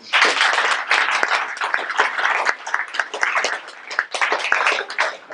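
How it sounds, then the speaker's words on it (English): Audience applause at a business enterprise week event in Jersey, dense steady clapping lasting about five seconds at close range, with no talking over it. "But thanks, guys, and a round of applause."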